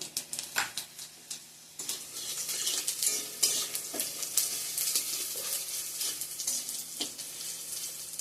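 Onion, bay leaf, dried chilli and panch phoron sizzling in hot oil in a home kitchen, with a quiet crackle broken by sharp utensil clinks and stirring scrapes close by, growing denser midway.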